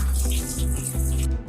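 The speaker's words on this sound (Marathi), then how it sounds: "पहिल्यांदा आपण चिकन स्वच्छ पाण्याने धुवून घेऊया." Raw chicken being washed under a running kitchen tap: steady water splashing and gushing into a sink, close and loud, with low hum beneath and a brief handling clatter.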